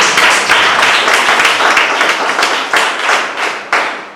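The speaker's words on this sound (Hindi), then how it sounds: "अल्ट्राटॉक के लिए जबरदस्त ताली होनी चाहिए।" A live audience claps loudly and continuously for a knee-care product at a product presentation, dense and steady with a few sharper accents near the end.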